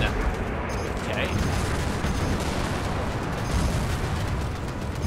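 Dense, continuous barrage of missile fire and explosions in the space combat game Strike Suit Zero, loud rumbling salvos overlapping without pause throughout.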